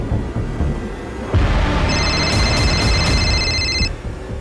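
A mobile phone on a burned body rings after its number is dialed, a short electronic ringtone with a few pulsing beeps lasting about two seconds over a steady rumbling outdoor background.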